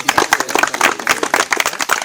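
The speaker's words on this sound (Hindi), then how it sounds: "बजाओ तालियां" A group of people clapping at a border post event in India, a burst of uneven, close handclaps lasting a couple of seconds with a few voices mixed in.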